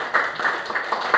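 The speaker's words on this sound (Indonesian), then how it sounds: "Kita kasih tepuk tangan semuanya." Students in a classroom give brief applause, a handful of quick clap bursts in an uneven rhythm over about a second, moderately close.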